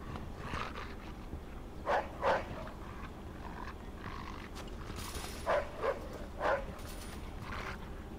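Dog barking in the video game Mafia 2, a few short barks in two pairs around two and five seconds, moderately loud over a steady low game ambience.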